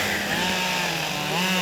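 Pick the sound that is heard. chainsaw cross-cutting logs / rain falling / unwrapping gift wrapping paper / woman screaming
chainsaw cross-cutting logs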